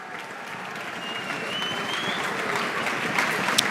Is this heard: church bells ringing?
no